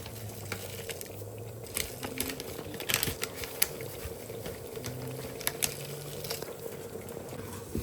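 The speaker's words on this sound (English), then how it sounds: "Give me a good stir" Chicken and spinach curry with tomato puree and spices is stirred in a pot, giving quiet scattered clicks and scrapes over a soft bubbling simmer.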